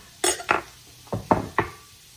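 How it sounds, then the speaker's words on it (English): Onions cooking in a pan for Australian meat pies get stirred, giving five quick clattering scrapes of a utensil against the pan in two loose clusters, close and fairly quiet. "I'm going to go ahead and give them a little stir."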